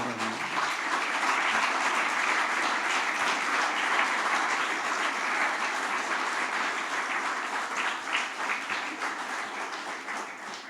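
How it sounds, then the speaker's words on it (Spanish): A church congregation breaks into sustained applause, a loud, thick wash of clapping that stays even for about ten seconds before easing off slightly. "Dale un aplauso al Señor"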